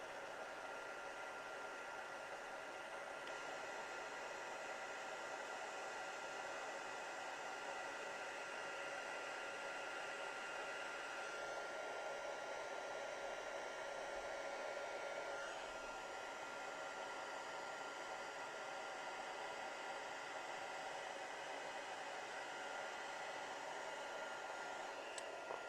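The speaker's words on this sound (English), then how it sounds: "I'm just going to heat emboss this." A heat embossing gun blows hot air over a handmade card, a steady, unbroken whoosh that stays loud and even throughout, with a slight change in tone partway through.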